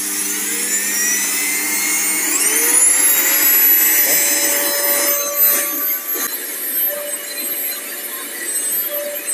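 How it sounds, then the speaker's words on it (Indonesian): A vacuum cleaner sucks dust and diesel residue from a dirty car headliner, its motor whining up to a loud, steady high-pitched drone with scraping and rubbing of the nozzle. "Ini vacuum cleaner itu buat menyedot debu dan sisa-sisa solar mungkin."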